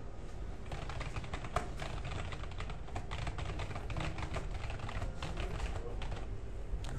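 Computer keyboard typing, a steady run of quick, close key clicks with uneven rhythm over faint room noise, no voices.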